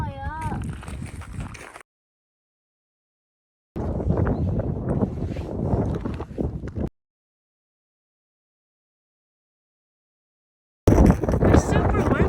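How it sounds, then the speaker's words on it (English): Strong wind roars and buffets the microphone in heavy low bursts, broken by stretches of silence, with voices faintly mixed in. "It's super windy."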